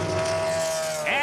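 Tony Ave Motorsports Chevrolet Trans Am race car at Mid-Ohio Sports Car Course, engine droning steadily as it rejoins the circuit, rising in pitch near the end, with commentary over it.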